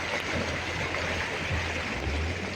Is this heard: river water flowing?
yes